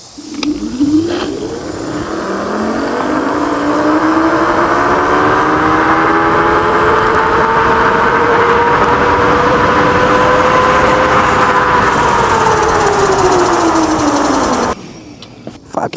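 A Gleeride H7 electric scooter accelerates from 0 to 30, its motor whine climbing steadily in pitch over about 13 seconds, loud and close, before dropping away sharply at the end.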